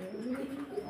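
Pigeons at a pigeon farm in Mohammadpur coo continuously and close, a steady low murmur of overlapping calls with no speech.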